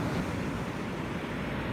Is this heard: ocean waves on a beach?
yes